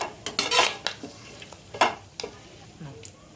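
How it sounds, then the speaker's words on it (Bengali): A bay leaf, two cardamom pods, two cloves and a piece of cinnamon fry lightly in hot oil. A utensil stirs them in irregular scraping strokes with metallic clinks over a soft background sizzle. "এখন আমি তেলেতে একটা তেজপাতা, 2টো এলাচ, 2টো লবঙ্গ আর 1 টুকরো দালচিনি দিয়ে দিচ্ছি। এটাকে হালকা একটু ভেজে নিচ্ছি"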